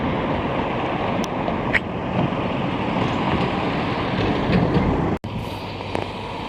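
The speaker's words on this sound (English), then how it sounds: "there's a green light for a train going the other way" A loud, continuous rumbling roar of a VIA Rail passenger train rolling past nearby in Montreal, with faint metallic squeaks and clanks over the steady noise.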